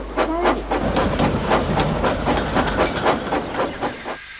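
A cartoon steam engine puffs away pulling coaches, with rhythmic chuffs, hissing steam and clickety-clack of wheels over a steady low rumble, loud and close, fading near the end.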